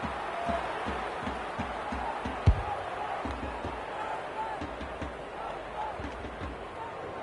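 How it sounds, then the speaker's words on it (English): A low, steady stadium crowd roar in the AFL 26 football video game fills the background, with a rhythmic thudding bounce and one sharp thump partway through. "The crowd noise tells you all you need to know."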